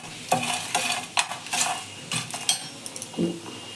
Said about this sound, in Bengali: জায়ফলটাকে দেখো আমি ভেঙে দিয়েছি, দিয়ে ভালো করে একটু টেলে নিচ্ছি।